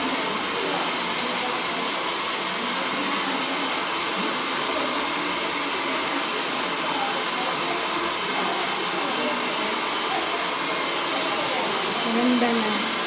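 A hair dryer blows steadily on freshly dyed hair, a continuous loud airy roar that holds even throughout without pausing.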